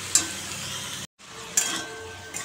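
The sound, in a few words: potato and papaya frying with cumin and turmeric powder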